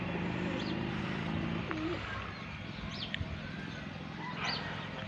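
Pigeons coo softly and repeatedly nearby, low rolling calls over a steady background murmur with a few faint chirps.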